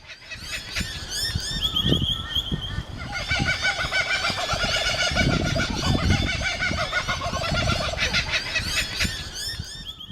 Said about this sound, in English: We love to hear the sound of the kookaburras and all the birds at dawn.